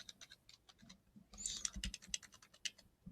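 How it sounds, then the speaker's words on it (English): Typing on a computer keyboard while filling in an email draft: a rapid, irregular patter of soft key clicks with a brief louder cluster midway, close and quiet, no voice. "then type a few spaces"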